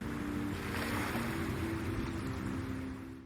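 Flowing water heard at the close of an audiophile track, a steady broadband wash like waves or surf that holds evenly for several seconds, mixed with low sustained tones, before fading slightly at the end.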